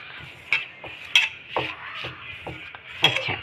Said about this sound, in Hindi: और हम इसको हाथ से अच्छी तरीके से मिला लेंगे